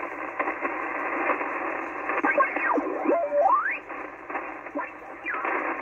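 An Icom IC-720 radio receiver hisses with static while tuning across lower sideband signals, garbled voice-like warbles and whistling tones sweeping in and out.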